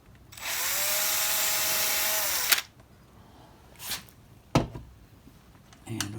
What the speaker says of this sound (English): I'm just going to get my drill again and we'll put a hole in here